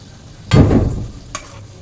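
Eggplants drop into boiling curry gravy, a loud close splash and bubbling burst that fades over a second, followed by a brief lighter clink, with no voices.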